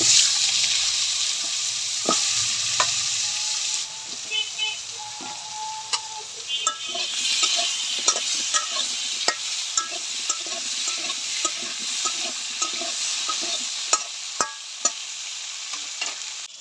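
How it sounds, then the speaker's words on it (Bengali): Potato and eggplant fry in oil left over from frying fish, giving a steady sizzle with scattered spatula scrapes and clicks throughout and no talking. "মাছ ভাজার তেলে আলু বাগুন ভেজে নেব।"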